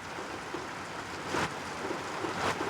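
Heavy rain falling in Mumbai makes a steady, even hiss that swells slightly midway. No voices are heard over the continuous downpour.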